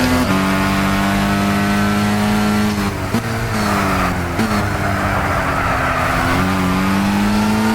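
A racing car in Gran Turismo 6 with a 5-speed transmission accelerates hard down a long straight, its engine droning loud and close, rising in pitch through each gear before shifting and climbing again, with no talk over it.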